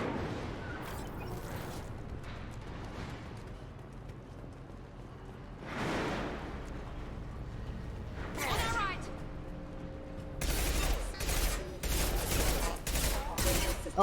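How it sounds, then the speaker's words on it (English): Gunfire in the video game Mass Effect 2 against mechs near an explosive, bursts of rapid shots and impacts clustering toward the end, under casual talk from players. "you should stand next to that explosive and shoot it"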